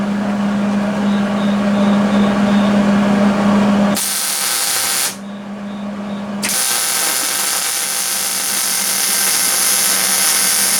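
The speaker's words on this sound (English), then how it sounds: "Now I'm ready to really put some weld on here." Hobart welder laying a weld bead on a 1985 Chevy K10 truck during restoration: a steady, close crackling hiss over a low hum, breaking off briefly partway through, then resuming for a long continuous run.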